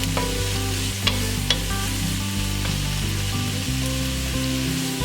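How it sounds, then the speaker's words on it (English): Carrots and onions sizzle steadily in a frying pan under a constant hiss, with a few sharp utensil clicks near the start and a low, continuous hum running beneath. "Over here, we have our carrots and onions cooking away."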